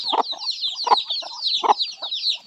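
Repeated soft clucking from chickens in a steady rhythm, with a constant layer of high peeping chirps running above it.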